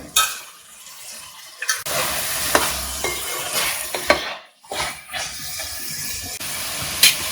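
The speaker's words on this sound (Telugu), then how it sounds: "పచ్చనపప్పు యాడ్ చేసుకుని చక్కగా ఒకసారి కలిపేసుకుని" Soaked chana dal goes into a pot of mutton and gets mixed in: uneven scraping stirs and soft sizzling with a few spoon knocks against the pan, close and moderately loud.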